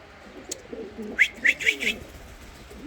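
Kanat posta pigeons in a coop give a few short coos and call notes in a brief cluster near the middle, close by over a low background murmur.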